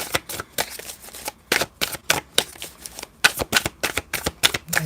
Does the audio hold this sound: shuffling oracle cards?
yes